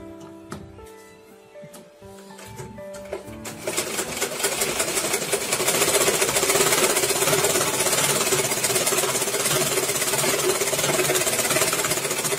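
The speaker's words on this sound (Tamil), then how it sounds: "இன்னும் 2 பீஸ் எடுத்து ஸ்ட்ரெயிட்டா தைக்கிறோம்." Sewing machine stitching two fabric pieces in a straight seam, starting with a few short bursts and then settling into a loud, fast, continuous mechanical chatter that runs steadily to the end.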